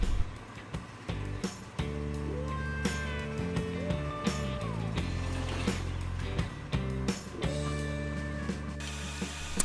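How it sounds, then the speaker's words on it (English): A drill press whirs with a low steady hum, broken by several bursts of grinding and ratcheting as a 3/4 inch bit bites into plywood, rising and falling. "Here I'm chucking up a 3/4 inch drill bit into my stand-up drill press."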